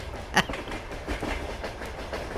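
A long freight train rolls past in the video game Farming Simulator 22, with a steady rumble and rhythmic clickety-clack of wheels over rail joints, heard alone and moderately loud.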